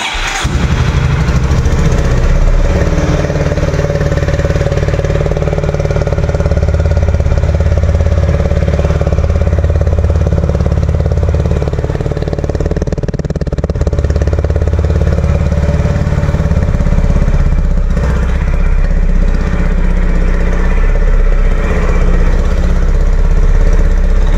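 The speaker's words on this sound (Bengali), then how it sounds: "এবার এক্সজস্টের সাউন্ডটা একটু তোমাদেরকে সবাই শুনিয়ে দিই" A Honda CB350 DLX Pro motorcycle engine runs steadily with its exhaust note, a continuous low rumble holding near and loud for the whole stretch with no talking.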